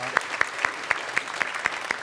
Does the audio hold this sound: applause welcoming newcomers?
yes